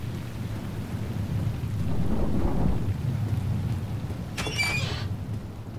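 Thunder rumbles through steady rain in a Roblox Doors game, a low swelling roll midway with a sharper crack near the end, with no talking.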